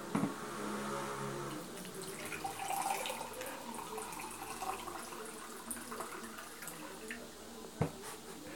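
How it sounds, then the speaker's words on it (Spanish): Water pours into a homemade play-dough mixture of flour in a bowl, giving a faint, steady trickle and splash throughout with a sharper drip or knock near the end. "Muy bien, ahora vamos a echar agua."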